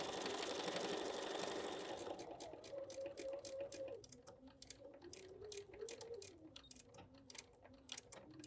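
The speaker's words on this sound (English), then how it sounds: "I come right off the edge and start sewing again" A sewing machine stitches fabric for foundation paper piecing, starting with a hissy whir and then settling into a quiet, quick rhythmic ticking of needle strokes, close and faint.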